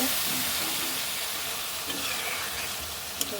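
Tengra fish sizzle and spatter while frying in a pan for a curry with pepuli greens, a continuous close hiss with faint stirring scrapes and a sharp tap near the end.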